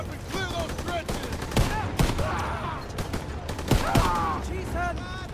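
Scattered sharp gunshots from a World War II trench battle in the Call of Duty: WWII video game, a few loud close cracks spaced a second or two apart amid a dense battle din, with shouting voices mixed in.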